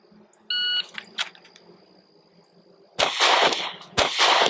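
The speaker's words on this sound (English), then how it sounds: "And now I'm gonna shoot the test at 10 yards." A Sig P365 XL pistol is fired at a 10-yard target during a timed shooting test. An electronic timer beeps first, then after a quiet pause several sharp, loud shots follow in quick succession.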